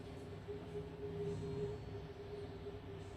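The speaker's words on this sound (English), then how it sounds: "Is it a plane? Yeah. It's a bloody close plane." An aircraft flying close overhead produces a low, steady rumbling drone with a faint sustained hum, fairly quiet and swelling slightly in the middle, with no voices.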